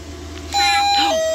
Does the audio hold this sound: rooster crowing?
no